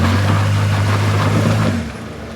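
Off-road vehicle engine on the rough backway trail to Crown King, a steady low drone with strong low harmonics held close and loud, then easing off near the end as the throttle drops.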